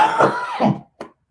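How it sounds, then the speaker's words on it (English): A man coughs two heavy, throaty times up close, followed by a couple of short, softer throat sounds trailing off into quiet. "I cough sometimes."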